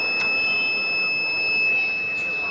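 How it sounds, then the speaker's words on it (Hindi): A mine detector on a Bluetooth remote-controlled toy tank gives a continuous high electronic beeping tone that holds steady over a faint hissy background. "तो ये बीप की आवाज़ तुम जी सुन रहे हो"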